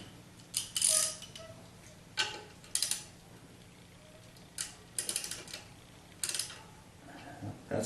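A wrench loosens a bracket on a 1976 Corvette during an AC compressor mount, giving scattered bursts of sharp ratcheting clicks in short irregular clusters, close by with quiet gaps between.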